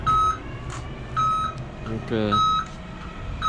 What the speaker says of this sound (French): la palette est en train de sortir